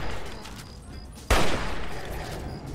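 A burst of gunfire in Fallout 3 cuts in sharply partway through, loud and sudden over steady background game noise, then settles back to a sustained ambient hum.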